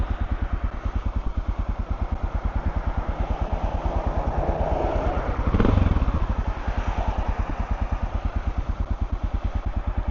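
Honda XR650L single-cylinder motorcycle engine idling steadily up close, a fast even thump with a brief blip of revs midway before settling back to the same rhythm.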